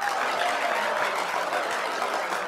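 A casino audience in London applauds in a steady, dense wash of clapping that holds at the same level throughout, with no voices on top.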